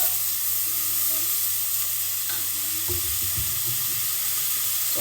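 Leek frying in avocado oil, a soft steady sizzle running throughout with a few louder crackles and stirring knocks toward the end, close and alone without talk.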